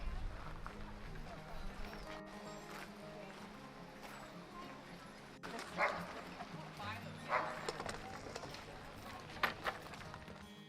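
Working sled dogs barking and yipping at a national park kennel in Alaska, several dogs calling in uneven bursts at close to moderate range, louder yelps standing out, with people talking over them and steady background commotion.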